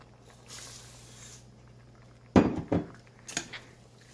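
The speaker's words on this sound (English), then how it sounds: "I'm going to stir in my tomatoes in my rice" A spoon stirring tomatoes and rice into a pot of black-eyed peas, with a few quiet scrapes and clinks of metal against the pot after a near-silent start.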